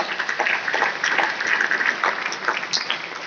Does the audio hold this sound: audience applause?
yes